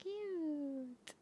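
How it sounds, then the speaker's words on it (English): A cat gives one long, drawn-out meow that slowly falls in pitch, followed by a short, sharp click near the end. "hi, kitty."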